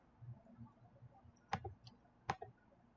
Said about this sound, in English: So I'll type in that access code I was given.